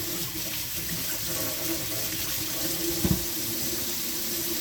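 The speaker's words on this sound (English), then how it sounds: "First, we're gonna get these potatoes washed." Tap water running steadily into a kitchen sink while potatoes are washed, a soft continuous splash with a brief louder knock near the end, no talk.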